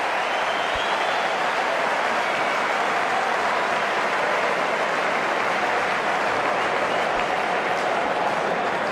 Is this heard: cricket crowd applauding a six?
yes